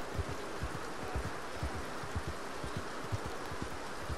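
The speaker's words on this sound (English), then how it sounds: "I can barely even see in the rain." Steady rain in the video game Red Dead Redemption 2, a constant dense hiss of falling water with faint low patters, heard alone at low level.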